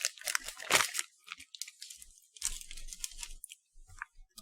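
A caramel-flavored snack crunches in close, sharp irregular bursts of chewing with short pauses between bites, quiet and up close with no talking.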